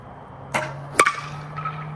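Brand-new 2025 Meta Prime USSSA baseball bat striking a ball, a single sharp metallic crack with a short ringing tail, preceded by a lighter knock, close and alone.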